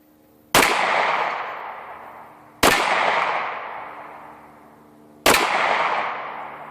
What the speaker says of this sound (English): why you really want to put some weight into the gun when you're shooting it for real